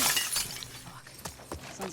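Glass shatters several times in The Last of Us Part II, with sharp breaking crashes at the start and again near the middle and end, mixed with game ambience and faint voices.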